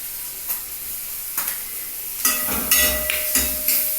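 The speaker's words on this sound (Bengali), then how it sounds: "এবার আমি আগে দিলাম মাছ মাছটা একটু কড়াইতে নেড়ে নিই" Stale fish pieces stirred in a hot wok, a soft sizzle broken by several sharp scraping clatters of the spatula that grow busier toward the end.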